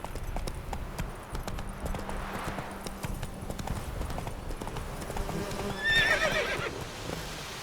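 A horse in the video game The Witcher 3 clip-clops along at a steady rhythmic gait, hooves clattering throughout, and near the end a whinny rises over the hoofbeats.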